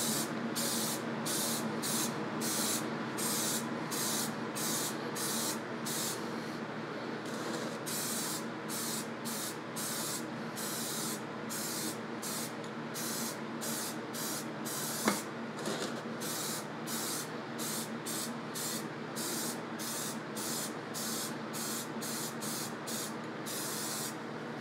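Spray gun applying a coat onto face shells, a steady loud hiss broken into many short rhythmic bursts with brief gaps, close and continuous throughout with no talking.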